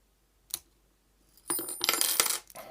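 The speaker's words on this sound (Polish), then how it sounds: "Napinacz mi wypadł, ale wypadł mi tylko i wyłącznie dlatego, że udało się otworzyć tą konstrukcję." A tension wrench from lock picking drops out of a freshly opened CISA 285/75 padlock, giving one small metallic clink followed by a brighter rattling clatter as it lands and settles, close and fairly quiet with no voices.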